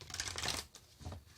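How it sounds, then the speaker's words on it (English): A deck of tarot cards being shuffled: a close, continuous papery riffling and sliding whoosh in two quick waves, with no voices. "One more shuffle they say."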